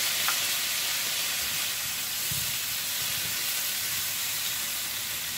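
Apple cider vinegar hits browned champignon mushrooms in a hot pan, giving a continuous close sizzle and hiss with a few low knocks and no talk.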